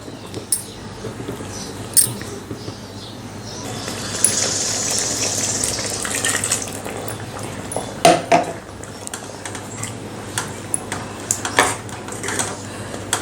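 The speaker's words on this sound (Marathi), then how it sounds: "आता यामध्ये आपण घालूयात गरम पाणी" Hot water is poured into a Konkani chicken curry, a soft gushing pour swelling midway over quiet kitchen noise, followed by scattered clinks of metal utensils.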